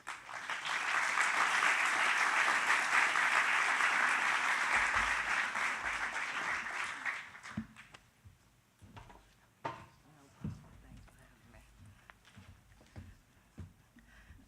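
An audience applauds to welcome a speaker at an affordable housing event, steady dense clapping for several seconds before it fades into scattered claps and quieter room noise.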